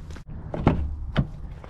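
The rear door of a 2023 Subaru Forester Limited opening, giving a couple of close, solid latch clunks and thumps with some handling rustle, heard alone without speech.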